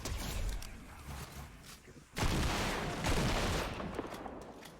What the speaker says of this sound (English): Gameplay with the Old Smokey. One of my favorite shotguns, like I said.